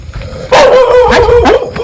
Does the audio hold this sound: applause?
no